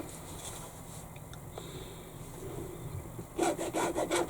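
A pen or marker drawing a line across handbag fabric, heard as a faint rubbing scratch under a steady low background. It ends with a few louder, rhythmic strokes near the close.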